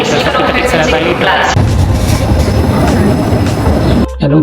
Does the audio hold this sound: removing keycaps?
no